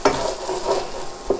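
Food sizzles steadily in a hot pan, with a few sharper stirring or tossing scrapes breaking through the frying hiss, close and moderately loud.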